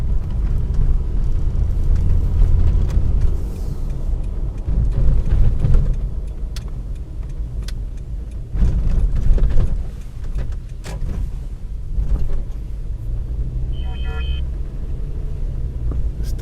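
A Toyota Fortuner on Maxxis RAZR tyres rumbles through an off-road test drive, low engine and road rumble close and loud with bumps and surges, plus a brief mechanical whir near the end.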